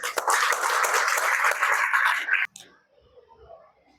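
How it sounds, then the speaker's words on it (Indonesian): Audience applause at a student orientation event, dense and steady clapping for about two and a half seconds before cutting off abruptly, leaving faint murmuring room noise. "tepuk tangan"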